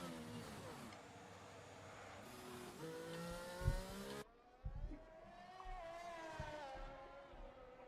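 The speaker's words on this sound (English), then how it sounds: "There you go, blasting down the pit straight." An F1 car from the racing game F1 22 screams down the pit straight at the Chinese Grand Prix, climbing through the gears with a sharp upshift, then a slightly quieter continued engine whine and a few thumps over bumps.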